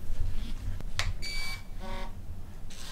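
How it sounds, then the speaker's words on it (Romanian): A USB-powered electric head massager runs with a steady, close buzzing drone, broken by a few brief higher-pitched whines. "Aparat de masaj la cap."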